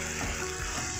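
Onions sautéing in oil and ghee for a vegetable biryani give a dense, steady sizzle with soft stirring movement, close up and continuous through the short moment, no voices.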